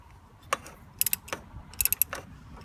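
A ratchet with a 29mm socket tightens the oil filter cap on a 2013 Dodge Dart 1.4L Turbo, making close, crisp clicks in quick irregular bursts with short pauses between strokes.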